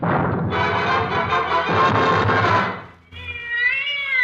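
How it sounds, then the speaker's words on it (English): A cat in a radio drama gives a clear, drawn-out meow near the end, after a dense, loud wash of background sound. "A cat."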